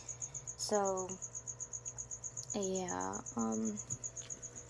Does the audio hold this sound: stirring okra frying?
no